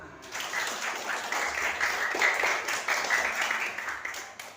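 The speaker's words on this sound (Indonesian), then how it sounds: "tepuk tangan untuk kelas 5" Schoolchildren in a fifth-grade class at an elementary school clap together in a brief burst of applause, lively and fairly close, sustained for a few seconds before fading.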